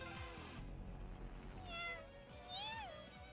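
Cat meowing close by in two or three short rising-and-falling meows, heard over video game music.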